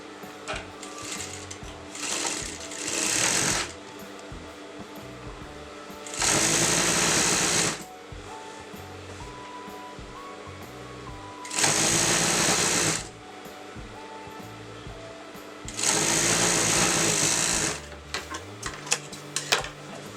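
A sewing machine stitches fabric for a Patiala salwar in several bursts of rapid, close whirring, with quiet pauses between runs.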